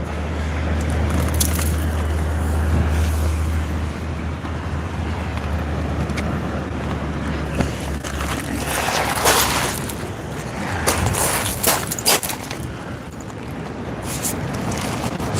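Easterly wind at sea buffets the microphone from a kayak in continuous rumbling gusts, with occasional louder blasts and no voices.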